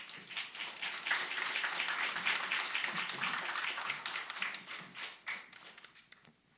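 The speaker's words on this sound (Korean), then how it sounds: "이 시간 나오실 때 큰 박수로 환영하도록 하겠습니다." A congregation at a Sunday church service claps to welcome the preacher. Many hands patter in a soft, fairly distant burst that swells and then tapers off toward the end.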